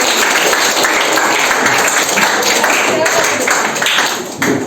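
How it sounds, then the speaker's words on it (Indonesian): Students in a classroom clap together during a lesson, producing loud, close, busy clapping that runs nearly the whole time before tapering off at the end. "Tepuk tangan untuk kita semua."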